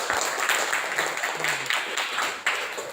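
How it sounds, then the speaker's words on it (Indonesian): A classroom of students claps together in a dense, steady round of applause that carries on throughout without pause, close and fairly loud, with a voice faintly audible beneath. "Tepuk tangan, terima kasih."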